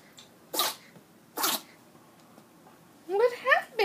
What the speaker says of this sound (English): He's been sneezing like that for the last half hour.